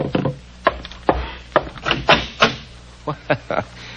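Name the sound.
knocking at a door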